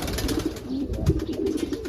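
A pigeon coos softly nearby, a few low throaty rolling calls over faint background noise, no speech.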